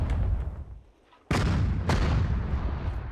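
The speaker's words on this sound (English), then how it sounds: "We can just allow the artillery to keep coming in." Artillery fire in the World War II strategy game Sudden Strike 4, during a Soviet campaign battle at Kharkov: two sharp heavy booms after a brief lull, each rolling into a dense rumble of distant shelling.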